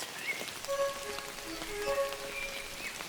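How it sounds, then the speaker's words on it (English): Raindrops pattering steadily on an umbrella outdoors in nature, a dense close spatter with brief tonal chirps of birds or insects in the background. "when the sounds of the raindrops hit the bottom and they reflect back up from the umbrella, you can also hear that"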